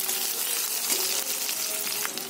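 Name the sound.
chopped onion frying in oil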